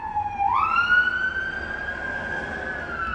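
An ambulance and a fire engine sound their sirens outdoors, one long rising wail settling into a sustained tone over distant traffic rumble, moderately far away.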